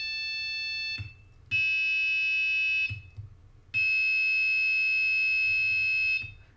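An electronic buzzer tone from a homemade digital piano sounds in long, steady bursts, three in all separated by short gaps, loud and shrill with a faint low hum beneath.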